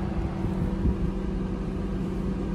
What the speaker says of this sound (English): Car is running, car is idling perfect